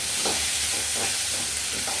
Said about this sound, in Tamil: வெங்காயம், கருவேப்பிலையும் போட்டு வணக்கிக்கலாங்க.